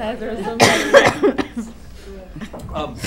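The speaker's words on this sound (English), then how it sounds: "I know everyone starts coughing when I start talking." Several coughs from a school board meeting room, a loud one early followed by scattered smaller coughs and throat noises, close and uneven.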